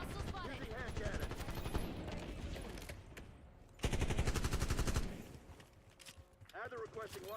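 Rapid bursts of hand cannon gunfire in a military shooter video game, loud and repeated, with a heavy burst in the middle, mixed with radio chatter and voices.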